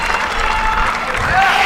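A tennis crowd at a WTA 125 women's tournament in Mumbai roars and applauds, a steady wash of clapping and cheering that lasts the whole moment while a voice talks over it.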